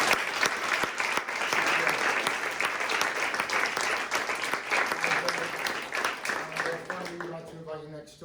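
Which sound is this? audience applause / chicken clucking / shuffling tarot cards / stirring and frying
audience applause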